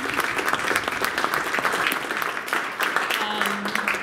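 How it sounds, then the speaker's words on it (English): Audience applause after a UX design maturity Q&A panel: steady, dense clapping from a crowd that carries through the whole stretch without pause. "I think we should give them a round of applause."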